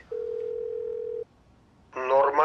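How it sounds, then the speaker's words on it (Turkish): A telephone call rings out with one long, steady tone of about a second, then a brief pause, then a louder burst of ringing with a richer, buzzing tone, close and clear. "Çalıyor."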